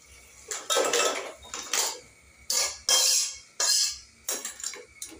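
Crab curry being poured and scraped out of a cooking pan with a spoon, giving a series of close, loud metallic scrapes and clanks in bursts with short pauses between them.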